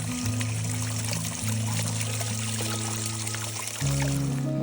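Water runs and pours down a wet, muddy mountain hiking trail in the Adirondacks, a steady close rushing trickle with a low, continuous flow and no voices.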